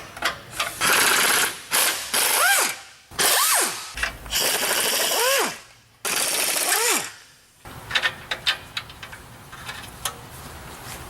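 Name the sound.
ratchet removing O2 sensor on Nissan 370Z exhaust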